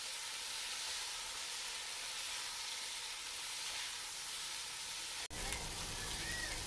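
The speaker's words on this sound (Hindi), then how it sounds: "इसको हम 3 मिनट फ्राई करेंगे सब्जियों को" Cut potatoes and cauliflower fry in a wok with a dense, continuous sizzle, close and steady. Near the end there is a brief break and then a louder rush of hissing.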